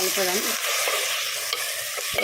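Goat tripe sizzles and crackles in hot oil while a utensil scrapes and stirs the pan in short strokes, close and steady.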